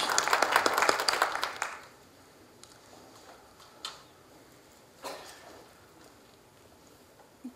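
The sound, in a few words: audience applause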